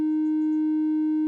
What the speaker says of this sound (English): something approximating a sine wave.